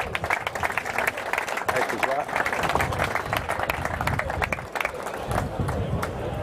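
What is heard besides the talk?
audience applause at awards gala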